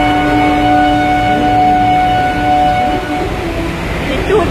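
Indian railway station ambience at a platform where the Howrah–Suri Express and Vande Bharat Express stand side by side: a steady engine hum with sustained tonal drone, continuous and fairly loud, with faint voices mixed in.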